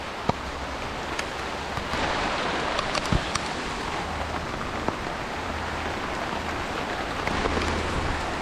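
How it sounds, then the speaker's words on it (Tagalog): Steady rain falls and patters on surfaces outdoors in Baguio, a constant hiss with scattered louder drips and taps throughout, no voices. "Abutan na ako ng ulan."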